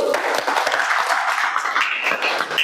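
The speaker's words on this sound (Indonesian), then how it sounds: "Oke, tepuk tangan dulu." Indoor applause after a tutorial on front and back rolls, dense steady clapping from a small group that carries on through the whole moment without a break.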